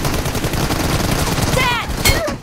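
A burst of rapid gunfire in a shooter video game, loud and close with quick repeated cracks, followed by sharp synthetic whooshing effects near the end.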